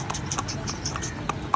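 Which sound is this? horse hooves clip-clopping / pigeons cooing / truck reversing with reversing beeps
horse hooves clip-clopping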